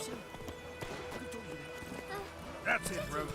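Roach, the horse in The Witcher 3, trotting with a steady clip-clop of hooves under ongoing game sounds, while someone talks over it and a brief sharp effect rings out near the end.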